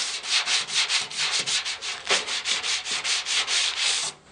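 Hand sanding a 1967 Mustang steel door skin with sandpaper wrapped around a dowel, rapid rhythmic back-and-forth rasping strokes, close and steady, about sixteen passes with no voices.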